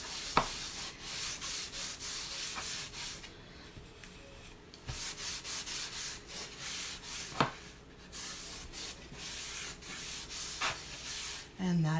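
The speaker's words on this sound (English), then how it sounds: "I'm just going to run some of that wax over the top of here" A rag rubs wax over a surface in soft, continuous strokes, giving a faint, close swishing that rises and falls. A few light knocks break it up now and then.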